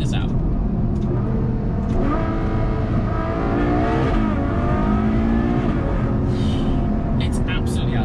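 A Ferrari GTC4 Lusso V12 engine revs hard through several quick gearshifts, its rising and dropping pitch up close and loud, with some road and wind noise underneath.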